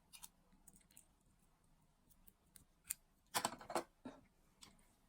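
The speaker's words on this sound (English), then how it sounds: "So let's cut this tail off." Small scissors snip the thread tail off a beaded flower earring, several quiet crisp clicks spread over a few seconds with a brief flurry of snips near the end, close and alone in a quiet room.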